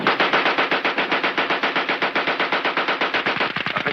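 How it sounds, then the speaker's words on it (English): A Browning automatic rifle firing a rapid, loud, continuous burst of closely spaced shots lasting nearly four seconds, heard alone. "The rifle fires as high as 500 rounds a minute."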